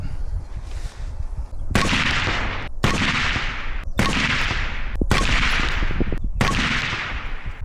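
Suppressed rifle firing 77 grain match ammunition through an ACOG-style optic, roughly six sharp, evenly spaced shots about a second apart, each with a fading tail, loud and close over an outdoor background.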